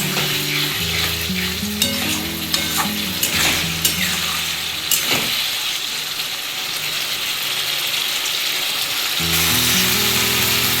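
A Bata fish curry base with yogurt and sugar sizzles loudly in a pan, with rapid scraping stirs and clinks across the first half and then a steady fry.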